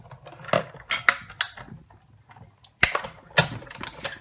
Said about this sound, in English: I'm going to put another cutting pad right on top, and I'm just going to run this through the Big Shot.